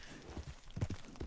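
Appaloosa horse hooves in Red Dead Redemption 2, a short run of soft, muffled clip-clop steps at a walking pace with uneven spacing, heard close and moderately quiet.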